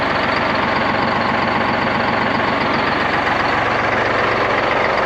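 A 12V71 Detroit Diesel engine in a 1973 Peterbilt 352 cabover truck runs loud and close, a continuous throbbing two-stroke drone with a rough pulsing rhythm and no letup.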